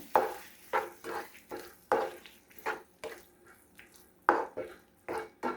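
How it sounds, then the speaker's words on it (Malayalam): Lemons and spices for a black lemon pickle are stirred and mixed in a vessel, producing a steady run of soft, wet scraping strokes roughly every half second, close and fairly quiet, with no talking. "എല്ലാം കൂടെ ഒന്ന് മിക്സ് ചെയ്യാം"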